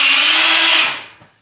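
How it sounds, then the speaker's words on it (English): A power drill whirs loud and close as it bores holes in a painted shed panel during a 12 x 33 Arrow Murryhill shed build, holding a steady high whine before spinning down. "drill some holes because the outside painted material doesn't have holes in it"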